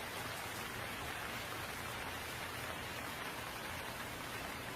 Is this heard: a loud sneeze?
no